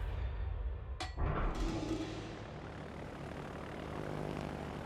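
A propeller fighter plane from the game World of Warships drones steadily at low level, joined by a brief louder whoosh and engine swell early on, then a continuous hum with no talking.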